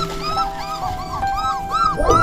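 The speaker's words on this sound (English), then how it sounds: "What are you barking at the houses for?" A dog gives a run of high, whining yips and barks in quick succession, fairly close and steady.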